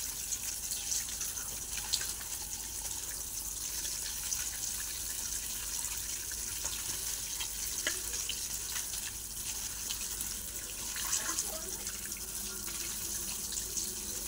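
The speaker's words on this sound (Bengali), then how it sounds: "আমি মাছটা ধুয়ে নিচ্ছি" Tap water runs steadily over freshly cut pond fish being rinsed, a constant close hiss of splashing with occasional small spatters and handling noises, no talk.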